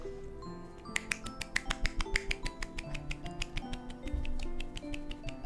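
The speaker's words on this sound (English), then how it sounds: "I can clap with just one hand." One person claps with a single hand, producing a fast, even run of about two dozen sharp, snapping slaps close by, over a faint tonal background.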